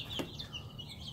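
Chickens in a coop give a soft, brief cluck against low barnyard background hum, one short call standing out near the start.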